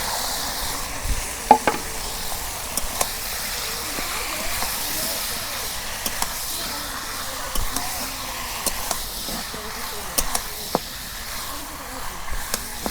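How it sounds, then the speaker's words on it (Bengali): Marinated beef hitting a hot pan for a home-made beef curry, giving a steady sizzling hiss with stirring scrapes and occasional clinks throughout, close and moderately loud. "এখন আমি মাংস দিয়ে দেব।"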